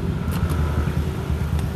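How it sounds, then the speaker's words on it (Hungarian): A small motorbike engine runs on a street in Bali, giving a steady, low, even rumble with no clear revving. "Egy nagyon-nagyon jó kis motor."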